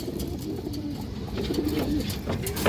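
Several pigeons coo softly and repeatedly from close by, their low rolling calls overlapping, with faint background rustle and occasional brief sounds.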